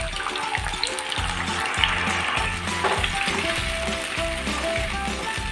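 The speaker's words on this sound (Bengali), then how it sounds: "আদাটা একটু ভাজা ভাজা হলে সেদ্ধ ডালটা দিয়ে দিলাম।" Boiled moong dal tipped into sizzling fried ginger tempering, loud close frying hiss with repeated rhythmic clattering scrapes of a spoon or ladle stirring the pan, steady throughout with no talk.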